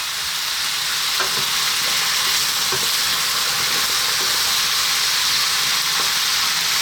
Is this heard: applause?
no